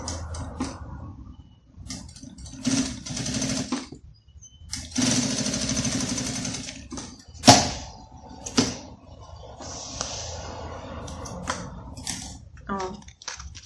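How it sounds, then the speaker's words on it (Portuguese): A sewing machine running a safety seam on printed fabric for a purse jewelry holder, whirring in several bursts of steady stitching separated by pauses and clicks, with a voice talking in between. "Vamos passar uma costura de segurança aqui."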